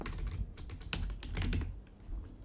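Quick typing on a computer keyboard while a file name is entered during a Blender export, a brief run of close, clicky keystrokes that slows and trails off near the end.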